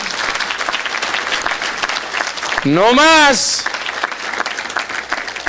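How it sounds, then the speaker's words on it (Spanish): A church congregation applauds loudly and continuously, with a man's sung or drawn-out exclamation rising over the clapping midway and a short spoken phrase near the start. "Denle un aplauso al Señor, qué hermoso."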